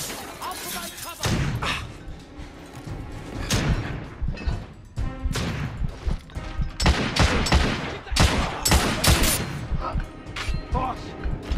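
Rapid bursts of gunfire and shotgun blasts from the Victorian-era shooter The Order: 1886, with heavy impacts and crashes throughout a chaotic firefight, often overlapping shouted talk.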